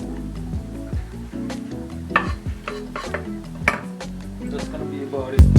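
Onions cooking in a frying pan for a vegetarian pesto pasta, with a soft sizzle under repeated scraping and clinking of a utensil stirring against the pan, plus occasional sharper knocks.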